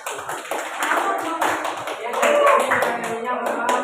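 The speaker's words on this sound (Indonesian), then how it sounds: "tepuk tangan dulu buat temannya" Students in a classroom clap for a classmate in uneven bursts, with scattered taps and voices chattering underneath.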